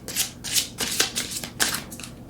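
Tarot cards riffled and drawn from a deck, a run of brisk papery swishes and flicks in quick bursts, close and fairly loud with no voices.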